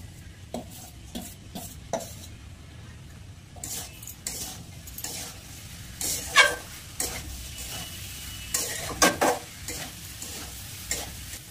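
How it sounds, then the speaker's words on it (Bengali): Washed broken wheat is stirred into frying vegetables: intermittent scraping and stirring strokes over a low background sizzle, with a few sharper clinks of a spoon against the pan. "এবার এই যে ধুয়ে রাখা ডালিয়াটা সবজির মধ্যে দিয়ে একটু নাড়িয়ে নেবো"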